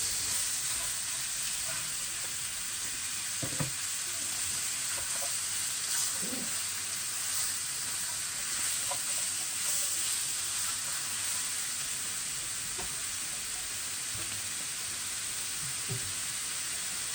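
Onion and peppers with spices sizzle steadily in a pan, a continuous close frying hiss with occasional soft stirring scrapes and clicks.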